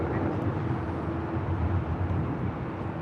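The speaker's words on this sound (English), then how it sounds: "She's taking off to Puerto Vallarta" A Boeing 737 taking off from LAX toward Puerto Vallarta, a broad continuous low jet roar, steady and fairly loud throughout.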